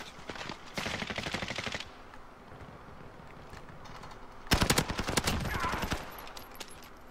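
Video game gunfire in rapid automatic bursts, two sustained volleys separated by a quieter gap, clear and close in the mix.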